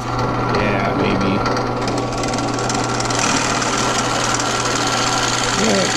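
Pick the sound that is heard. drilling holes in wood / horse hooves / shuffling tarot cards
drilling holes in wood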